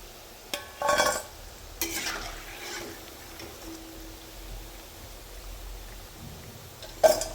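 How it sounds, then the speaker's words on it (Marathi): Pakoras deep-fry in hot oil with a soft, steady bubbling sizzle, broken by a few clinks and scrapes of a slotted spoon stirring and lifting them from the pan. "पकोडे तळून घ्यायचे आहे"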